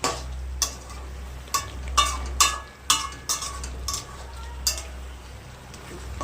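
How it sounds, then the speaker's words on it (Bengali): Flat beans and radish being stirred in a pan for a yogurt-poppy seed dish, with a utensil scraping and clinking against the metal in irregular strokes over a low steady hum, close up and with no talk. "এই সিম আর মূলোটা ভালো করে নাড়াচাড়া করতে হবে।"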